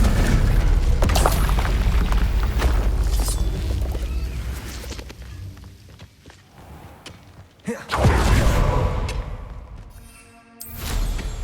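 Confringo spell explosions in the Hogwarts Legacy video game: heavy booming blasts with rumbling tails, loud at the start, fading to a quieter stretch, then another sharp burst and rumble later on.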